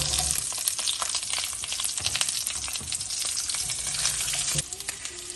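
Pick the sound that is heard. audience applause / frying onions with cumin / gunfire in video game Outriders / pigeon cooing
frying onions with cumin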